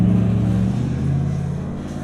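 A loud pickup truck engine revving nearby, with a deep, throaty idle rumble that shifts in pitch as the revs rise and settle.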